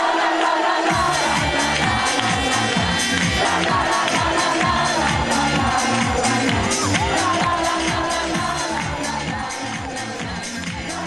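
Rossoblù football supporters waving flags in a town square at a team presentation festival chant loudly and continuously, a dense, rhythmic crowd roar that fills the whole stretch and eases slightly near the end.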